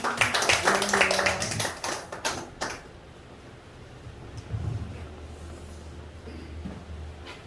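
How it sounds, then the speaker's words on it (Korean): Church congregation clapping to welcome a pastor at a prayer service, a burst of brisk applause for about three seconds that cuts off, leaving quiet room noise and low murmuring. "박수로 맞이하겠습니다"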